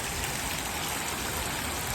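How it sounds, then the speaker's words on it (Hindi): Heavy rain pours down outdoors, a dense, steady hiss of countless drops hitting surfaces, loud and unbroken with no voices. "कितनी तेज बारिश आ रही है, देखो"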